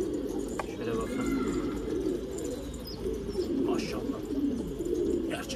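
A Kashmir posta pigeon coos in a garden, giving repeated low throaty rolling coos at close range over a faint background of other noise.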